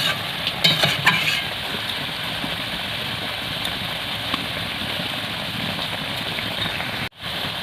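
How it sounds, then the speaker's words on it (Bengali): Fried puti fish simmer in a sour tamarind and okra curry, giving a soft, steady bubbling sizzle close by with a few brief clinks near the start and a short cut-out near the end. "এবারে আমি ভেজে রাখা মাছগুলো দিয়ে দেবো, দিয়ে একটু ফুটিয়ে নেব যাতে মাছের মধ্যে টকটা ভালোভাবে ঢুকে যায়"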